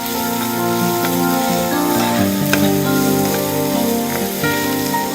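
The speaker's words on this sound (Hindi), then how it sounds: "अच्छी तरह प्याज फ्राई कर लें।" Chopped onion, about 120 grams, frying in a pan for a vegetable jalfrezi, giving a steady, close, continuous sizzle with faint stirring clatter and no talk.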